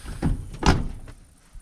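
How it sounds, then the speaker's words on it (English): The door of a Little Red Express truck, a Mopar pickup, shuts with two quick thuds, the second a firm solid closing, nearby and with no talking. "door shut nice."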